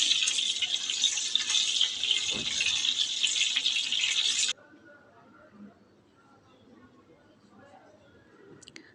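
Boiled eggs, seasoned with turmeric powder and salt, fry lightly in hot oil in a pan, making a steady bright sizzle that stops abruptly halfway through and leaves faint kitchen noise.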